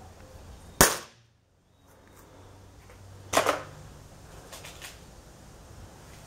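Two sharp shots from a CBC Montenegro Standart F18 4.5 mm air gun a few seconds apart, each a crisp snap followed by a brief fade, with quiet room tone in between.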